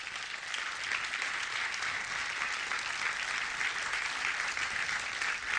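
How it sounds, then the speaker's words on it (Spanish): Sustained applause from a church congregation, a dense, steady wash of many hands clapping together at even loudness throughout, with no voices standing out. "Denle un fuerte aplauso a Dios."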